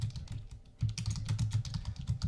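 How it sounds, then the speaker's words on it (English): Quick, uneven keystrokes clatter on a computer keyboard, close and fairly quiet, in bursts with a short pause near the start. "I'm typing in here."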